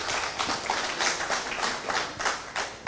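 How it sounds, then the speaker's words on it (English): Audience applause welcoming a blockchain-law speaker at the Panama Glass 2017 event, a steady dense wash of many hands clapping at close range, sustained throughout without pause. "Warm applause, please."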